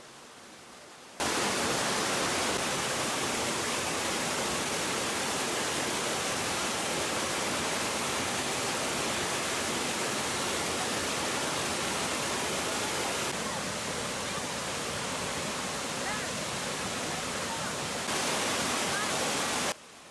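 The 3-metre Liang Pandan waterfall in Murung Raya, Borneo, roars in a constant, dense hiss of rushing water, loud and unbroken, its level shifting slightly partway through.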